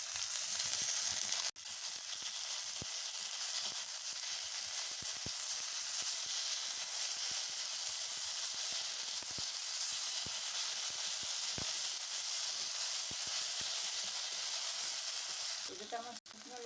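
Spices frying in oil in a pan for Bengali chicken liver kosha give a loud, steady broadband sizzle that runs throughout, with brief stirring knocks and a short drop near the start.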